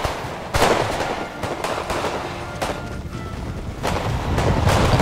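Repeated musket volleys crack out from massed line infantry in an Empire: Total War battle between the United Provinces and France, sharp reports landing in uneven bursts over a steady rumble of distant gunfire, with no voices.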